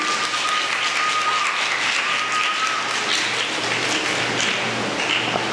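Schoolgirls in an audience at a primary-school calypso competition prelim in Trinidad and Tobago clap steadily, a continuous loud wash of many hands applauding with a faint hum underneath and no talk.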